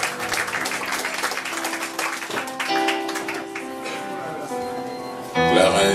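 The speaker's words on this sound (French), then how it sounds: "Merci Vincent, on l'applaudit." An evening event audience in France applauds in bursts of clapping while a presenter speaks over it, with a louder swell of applause at the end.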